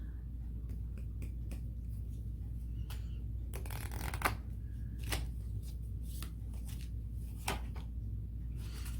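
Tarot cards are shuffled and drawn in a quiet room, a steady run of soft riffling flicks and snaps with a few louder card slaps, close and clear, with no voices over them.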